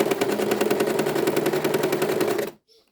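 A sewing machine stitching a straight line through paper, a steady fast mechanical chatter of needle strokes, close and loud, running evenly before stopping abruptly.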